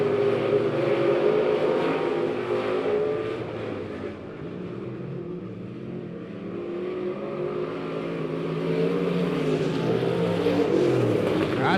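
Race cars in a heat race at a speedway, a continuous roar of engines as the field slingshots down the back stretch, swelling, dipping mid-way, then building again, with no talk.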